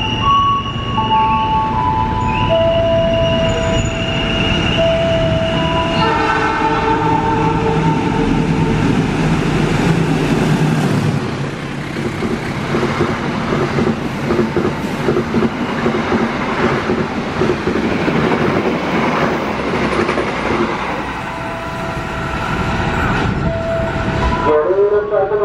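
Jakatingkir passenger train with power car P02301 bound for Solo Balapan rolls past close by, a loud continuous rumble of wheels and carriages with clattering rail noise and tonal horn-like notes early on, lasting throughout.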